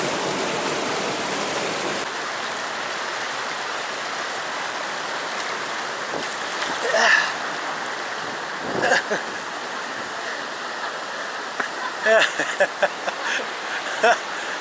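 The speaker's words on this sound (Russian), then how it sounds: "как вода отсюда уходит по этим щелям" River water rushing and draining away through cracks in the rocks, a loud continuous broadband roar throughout, with a few brief clicks and splashes near the end.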